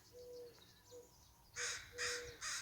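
A crow caws three times in quick harsh bursts, loud and fairly close, over a quiet rural backdrop with a faint thin whistle-like tone earlier and no voices.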